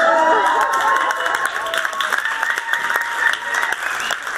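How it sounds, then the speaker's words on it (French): A stand-up comedy audience applauds loudly and continuously, with cheering voices mixed into the dense clapping throughout. "Vous applaudissez ça, bravo."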